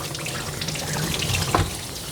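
Running water rinsing the underside of a Coton de Tulear dog during a full groom, a close steady splashing flow with a brief louder gush.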